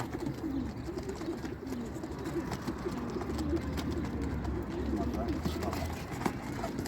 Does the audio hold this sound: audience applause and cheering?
no